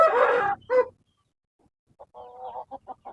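A hen and a rooster cluck close by, first with a few loud vocal bursts, then a short pause, then a run of quicker, softer clucks, with no talk over them.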